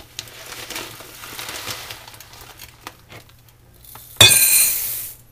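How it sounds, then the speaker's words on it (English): Dry rice being measured out with a cup and poured into a big bowl, a soft gritty rustle followed by a sudden bright rushing pour of grains against the bowl that trails off. "So I'm going to measure 3 cups of rice out and put it in my big bowl."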